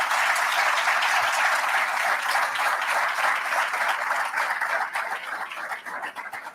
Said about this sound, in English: Can I ask you all to applaud and thank them for coming out today?